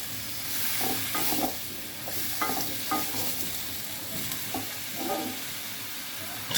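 Bottle gourd and prawns stirred and sautéed in a pan, with a steady background sizzle and repeated scraping stir strokes at irregular intervals, close and moderately loud, with no talking.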